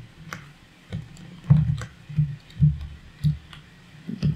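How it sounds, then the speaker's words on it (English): Irregular low thumps and clicks of typing on a computer keyboard, a few scattered keystrokes spaced through the clip, close and moderately loud with no talk. "To pull up the action palette and enter a command, you can click the equal key and start typing"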